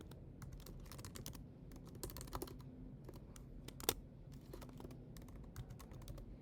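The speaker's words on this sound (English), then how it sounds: "can you guys hear my fingers tapping?" Fingers tap on a computer keyboard in quick, irregular bursts of soft clicks, close but faint, with one sharper keystroke standing out midway; no voices.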